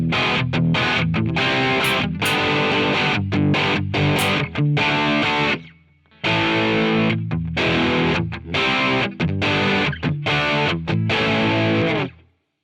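Electric guitar played through an Amplitube 5 Marshall JCM 800 amp simulation, heavily distorted with chugging rhythmic chords and short muted stops, one brief pause midway, loud and alone.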